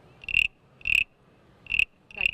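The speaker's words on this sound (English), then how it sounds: "They have that spring peeper sound" A toy frog gives four high, piercing peeps one at a time with short gaps between, loud and close, like a spring peeper's call.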